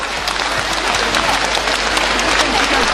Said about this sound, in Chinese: 再次长时间的掌声欢迎4位艺术家